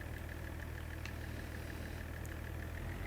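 A tractor engine in the farming video game Farming Simulator 25 idles steadily at close range, a low rumbling drone with a regular ticking pulse and no talk.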